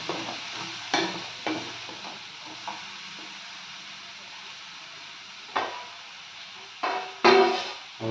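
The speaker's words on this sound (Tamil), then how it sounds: "நல்லா ஒரு 2 நிமிஷம் நல்லா ஹை ஃப்ளேமில் வச்சு நல்லா கிளறி விட்டுட்டே இருக்கணும்" Shark puttu being stirred in a pan over a high flame, a steady frying hiss punctuated by about eight separate scraping knocks of the spatula at irregular intervals, close and clear, with no speech.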